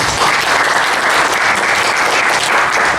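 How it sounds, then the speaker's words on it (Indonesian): Loud, dense audience applause rolls on continuously at an Indonesian government event about countering terrorism, with no voices rising above it. "tepuk tangan dulu untuk Anda"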